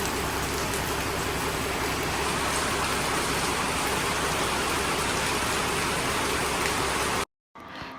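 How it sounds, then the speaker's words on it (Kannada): Steady, dense rain falls on arrival in Ankola, a continuous broadband wash close by that holds for about seven seconds before cutting out abruptly. "ಹೆಂಗೆ ಮಳೆ ಬರ್ತಾ ಇದೆ"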